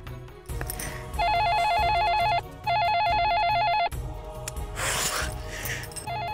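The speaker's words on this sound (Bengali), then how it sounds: "ফোনটা বেজে যাচ্ছে।" A telephone rings unanswered at a hospital reception, two long electronic ring bursts separated by a short pause, loud and close, with rustling room noise before and after.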